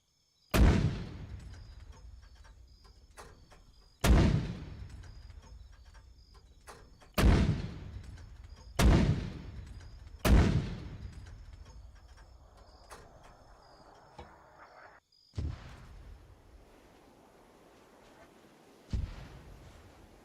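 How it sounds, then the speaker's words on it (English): Mortar rounds fire in the video game Arma 3, with about eight sharp, heavy booms spaced a few seconds apart, each decaying into a long rumble, separated by quiet gaps. "That's the only mortar I have on these islands."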